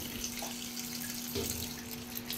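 Water from a household tap runs steadily into a container, a soft continuous splashing hiss with a faint hum beneath it and no talking.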